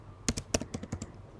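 Quick bursts of keystrokes on a computer keyboard while typing into a spreadsheet, a dozen or so crisp, close clicks in an uneven rhythm with no talking.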